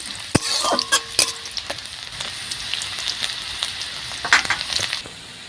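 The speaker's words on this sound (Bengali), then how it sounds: "রসুনটাকে একটু হালকা হালকা করে ভাজা করে দিচ্ছি।" Garlic fries with dried chillies and whole cumin in a pan: a steady soft sizzle broken by sharp scraping and clinking stir strokes, close and with no voices.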